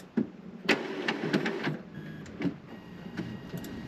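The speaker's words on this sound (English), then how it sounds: "And I've got the label maker ready." A label maker prints a batch of labels with mechanical whirring and clicking bursts that stop and start, close up and moderately loud, with no voices.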